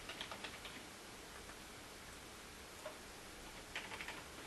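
Quiet typing on a computer keyboard, short clusters of soft key clicks separated by pauses, close by with no one speaking.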